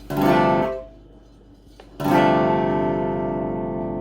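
A clean, unprocessed electric guitar with poorly set intonation strums a chord that rings and fades, then a second strum rings out and sustains; fairly quiet, no voices.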